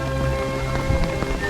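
Steady rain falls across the Nymphenburg Palace garden in Munich, a dense, continuous patter of drops on surfaces with no one speaking.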